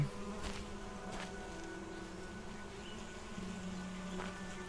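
Bees buzzing in Solarpunk, a cozy crafting survival game, a faint continuous drone with occasional louder passes over a steady ambient background.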